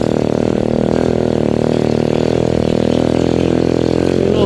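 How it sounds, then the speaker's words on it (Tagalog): A motorcycle engine straining as it climbs a mountain road, a loud, steady low drone close by with no talk. "Nahihirapan yung motor, humahon."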